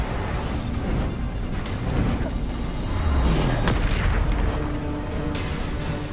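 The Bombarda blasting spell goes off in the Hogwarts Legacy game inside a haunted mansion, giving a few deep rumbling booms over dense background game noise.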